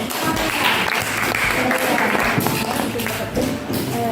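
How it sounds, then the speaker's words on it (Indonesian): A school class applauds in a classroom, a dense burst of clapping that keeps going at an even level, with some voices mixed in underneath. "Tepuk tangan dulu."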